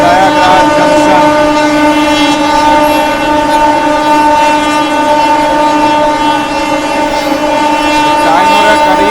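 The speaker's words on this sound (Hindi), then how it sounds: "ये देखिए ताबड़तोड़ रफ्तार में हम लोग स्किप कर रहे हैं प्रयागराज जंक्शन" A Patna–New Delhi Amrit Bharat express train at high speed at night through Prayagraj Junction, a loud continuous rumble with steady tonal hum and rail noise throughout, with no pauses.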